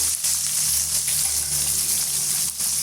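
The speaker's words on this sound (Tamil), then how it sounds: "இப்போ ரெண்டு கொத்து கருவேப்பிலை சேர்த்துட்டு வெங்காயம் வந்து ஒரு அளவுக்கு வதங்கி வரட்டுங்க" Onions and curry leaves sautéing in a pan with oil, a steady hiss and sizzle running unbroken at moderate loudness, with no talking.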